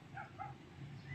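A dog gives two quick, faint yips early on, sounding distant and soft against a low outdoor background hum.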